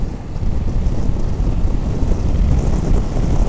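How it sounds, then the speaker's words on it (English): Wind buffets the microphone during a ride on a 2023 BMW 750 GS motorcycle, a loud, constant low rumble with gusty fluctuations and no talk. "God, it's getting windy."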